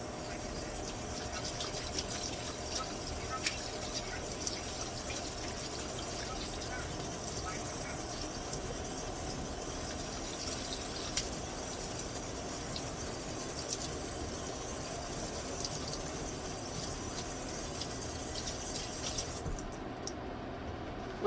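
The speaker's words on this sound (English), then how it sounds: "let me wash my hands" Running water from a kitchen tap as hands are washed under it, a steady broadband gush lasting throughout before cutting off at the end.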